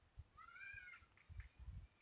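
A cat gives one clear, rising-then-falling meow, followed by a couple of faint short mews, heard at a moderate distance against low background rumbles and bumps, with no talking.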